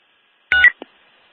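Police dispatch telephone dialing a call back: a short burst of bright DTMF keypad tones, then a single brief tone, then near silence.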